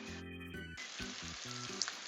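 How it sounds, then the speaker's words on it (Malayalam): Duck pieces crackle and sizzle as they deep fry in hot oil for a Kuttanad-style duck mappas, a steady close hiss with faint pops, partly overlaid by a low tonal hum. "അപ്പൊ നമ്മൾ താറാവ് വറുത്ത് കോരി എടുക്കുകയാണ്."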